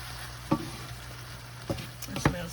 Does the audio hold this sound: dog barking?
no